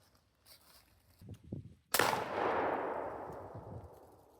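A 10 gauge shotgun fires a single 1 3/4 ounce slug in one loud, sharp blast that trails off into a long echoing roll, with a few quiet handling sounds just before the shot.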